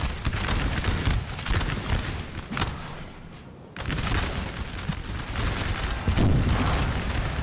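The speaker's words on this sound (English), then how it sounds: "Oh, the artillery friendly fire." Volleys of artillery and musket fire from a Napoleon Total War battle, dense overlapping booms and crackling shots rolling continuously, with a brief lull midway before the barrage resumes.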